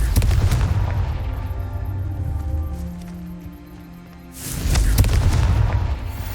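A Confringo fire spell blast in the video game Hogwarts Legacy: loud, booming bursts open the clip, a low rumble fades between them, and a second heavy blast erupts near the end.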